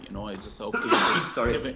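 A single sneeze bursts out sharply in the middle, close and fairly loud, between brief stretches of quiet conversation during a squash match commentary.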